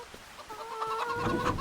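Chickens cluck and squawk in the farming game Farming Simulator 25. The calls come close and clear, in short repeated bursts over a light background with no talk.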